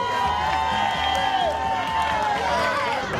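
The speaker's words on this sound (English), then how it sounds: "Clap it up for her, man." A crowd at the Florida Man Games cheering and whooping for a winning team, loud and steady throughout, with voices and shouts blended into the roar.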